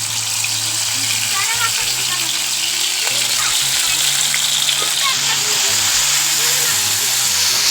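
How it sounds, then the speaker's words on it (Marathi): Masala spices frying in hot oil in a pan for fish curry, a steady close sizzle and crackle with occasional stirring scrapes, and a low hum underneath. "तपलं आपलं तेल आता हा टाकला मसाला"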